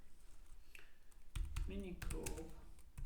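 A quick burst of computer keyboard keystrokes, close and moderately loud, mixed with a person talking while entering a command in a terminal during a deployment setup.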